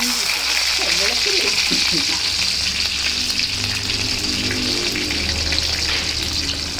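Chopped ginger dropped into hot oil with popping mustard seeds for a papaya pickle gives a loud, steady sizzle and crackle that runs the whole way through, with a brief murmur of a voice near the start.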